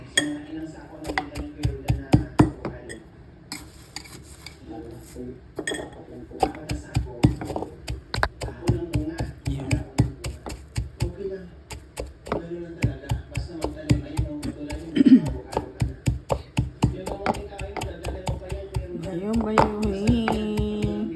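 Tiny shrimp are pounded by hand for bagoong alamang shrimp sauce, producing rapid, repeated thuds and taps at a steady, close rhythm, with a person talking over the pounding throughout.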